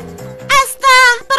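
A small cartoon bird lands with a quick flutter and calls in a few bright, harmonic chirps, each one loud, with short gaps between.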